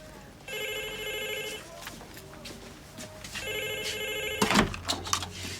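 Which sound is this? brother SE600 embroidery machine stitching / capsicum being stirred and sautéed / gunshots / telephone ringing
telephone ringing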